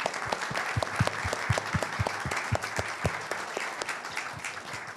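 Audience applause for a panel at a COP28 special event in the UAE, a moderate crowd clapping with some distinct sharp claps standing out, fairly even and sustained.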